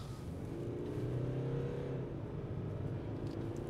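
A 2018 Hyundai Santa Fe climbs a hill at steady speed, its engine giving a continuous mid-loud drone with a rising harmonic whine over road rumble, heard alone without talk.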